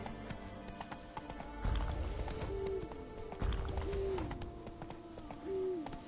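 Hooves of Roach, a horse in a video game, clip-clop steadily at a gallop, with a few short whinnies and tonal game sounds over the rhythmic beat.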